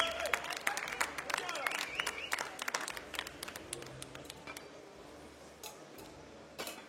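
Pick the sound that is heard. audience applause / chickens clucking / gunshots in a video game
audience applause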